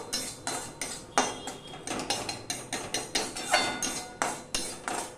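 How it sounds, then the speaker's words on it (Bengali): Fried gram flour is stirred in a kadai after the gas is turned off, a metal spatula scraping the pan in quick, regular strokes about twice a second. "আমি এবার গ্যাসেরটা অফ করে দিলাম, দিয়ে সমানে নাড়তে থাকবো।"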